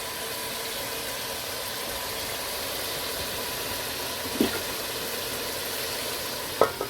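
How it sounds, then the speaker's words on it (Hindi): Masala and tomatoes fry in a covered pan over a high flame, making a steady, even sizzle throughout, with a couple of faint clicks near the end. "अच्छी तरह मिक्स करके हाई फ्लेम पे कुछ देर के लिए इसको हम कवर कर लेंगे ताकि मसाला अच्छी तरह भून जाए"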